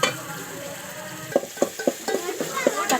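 Tomatoes with salt being stirred and sautéed in a pan: a soft sizzle under a quick run of close spoon scrapes and taps against the metal, without speech.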